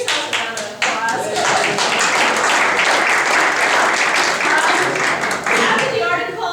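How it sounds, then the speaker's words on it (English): Loud, dense applause from an audience at an evening library event, steady clapping filling the room for several seconds after a brief dip near the start. "give yourselves a round of applause"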